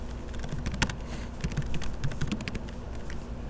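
Computer keyboard typing, someone entering a search in Google on a Windows PC, with a quick burst of clustered key clicks followed by steady, moderately close keystrokes and no talking.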